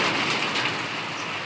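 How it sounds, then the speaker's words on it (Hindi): Heavy rain suddenly pouring down after bright sunshine, a dense, steady hiss of fat drops close by, continuous and even with no voices. "देखो इतनी कड़क तेज़ धूप से बारिश शुरू हो गई।"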